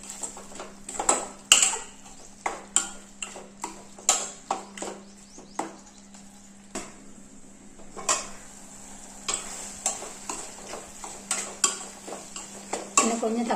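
A spoon stirs tomatoes cooking in a pot for a drumstick and egg curry, giving repeated sharp metallic scrapes and clinks in an uneven rhythm over a low background hiss.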